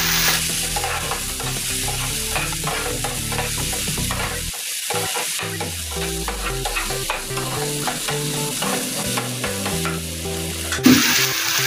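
Ginger and garlic paste is stirred into an onion-tomato masala in a pan, with continuous scraping and stirring over a steady sizzle throughout, close and fairly loud.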